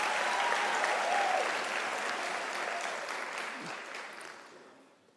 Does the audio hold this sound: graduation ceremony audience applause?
yes